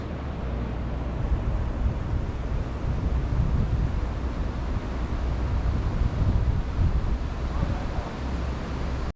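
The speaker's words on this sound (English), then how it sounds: "Listen to it, it's just the sound of the water and nothing else." Floodwaters of the Hawkesbury River near Windsor rushing past, a broad continuous roar of flowing water mixed with wind buffeting the microphone, loud and unbroken with no voices.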